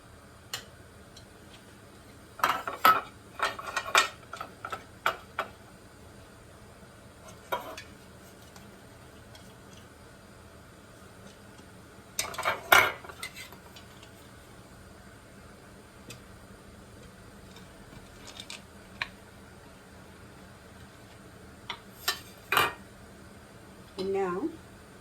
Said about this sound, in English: I'm going to put a little bit oil on this idli mold.